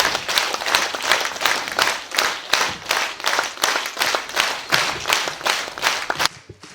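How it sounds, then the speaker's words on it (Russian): An audience at a children's music school concert gives a standing ovation, clapping in a steady rhythmic unison beat that fills the hall before stopping abruptly. "вам аплодируют стоя."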